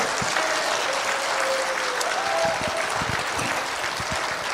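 An audience at a church gathering claps loudly and continuously, dense applause filling the whole stretch with a few sharper claps standing out near the end.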